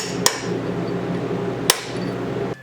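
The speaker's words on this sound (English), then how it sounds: "Then pound in the wrist pin to hold it all together." Two sharp, ringing hammer blows, spaced about a second and a half apart, drive a wrist pin into a Tremec TKO600 5-speed transmission assembly. They stand out over a steady low hum of shop background.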